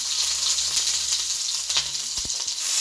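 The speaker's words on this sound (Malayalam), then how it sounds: "എണ്ണ ചൂടായപ്പം അതിനകത്തോട്ട് കുറച്ച് ഒരു രണ്ട് നുള്ള് ഉരുവായിട്ട് കൊടുക്കും അതിനകത്തോട്ട് കൊച്ചുള്ളി ഇട്ട് കൊടുക്കുക" Shallots fry in hot coconut oil with a loud, continuous crackling sizzle up close, broken by a few soft knocks of a utensil against the pan.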